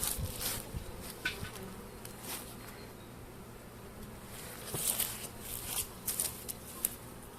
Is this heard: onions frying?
no